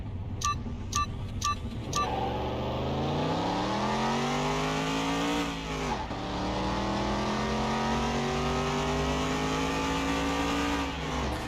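A V6-powered BMW Z4 engine revs in Car Mechanic Simulator 2021. After a few short beeps, it climbs steadily through the revs, drops sharply, then builds again in a long, loud rising whine that holds close and steady.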